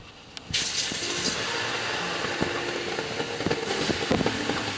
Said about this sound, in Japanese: ロウリュウしております